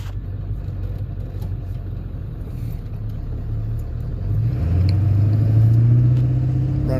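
A 1997 Ford F-250HD with the 7.3L diesel idles with a low steady rumble, then the engine note rises and holds at a higher, louder drone during a cylinder contribution check.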